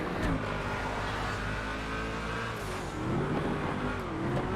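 A Sentinel XS sports car engine in GTA FiveM drones steadily at high revs, its pitch dipping and rising again as it shifts, loud and close throughout.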